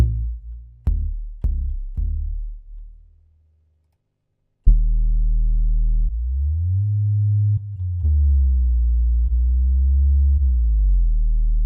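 A detuned bounce bass synth from the LEWD Kontakt library plays a few short plucked notes, falls silent briefly, then sustains a heavily saturated low sine-wave bass line with gliding pitch bends.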